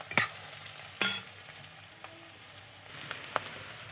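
Garlic frying in a pan for Assamese-style fish chilli gives a soft steady sizzle, broken by a few sharp scrapes and clinks of a spoon stirring against the pan.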